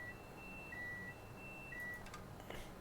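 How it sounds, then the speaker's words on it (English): Electronic alarm beeps sound in a Pendolino train cab in Train Sim World 5, a steady high tone repeating in several sustained beeps, with short clicks near the end. "Acknowledge our alarms."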